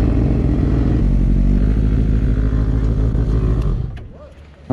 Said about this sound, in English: I don't know why my engine's still on.